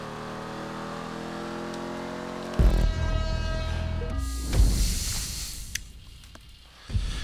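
A car engine in GTA 5 Online revs and drops as the throttle is feathered, with harmonic whines rising and falling, followed by thumps and scraping bursts.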